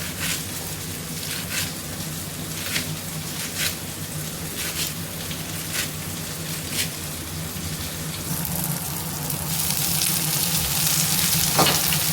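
Spinach from a home garden sautéing in a pan, giving a loud, steady sizzle with regular spatula scrapes that grows louder and hissier near the end, with no voices.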